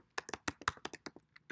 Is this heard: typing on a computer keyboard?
yes